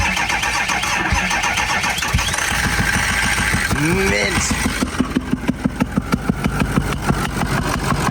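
Blown 6.0 truck engine cranking and firing up, then idling roughly with a rhythmic knocking pulse, while people talk briefly nearby over a busy, noisy background.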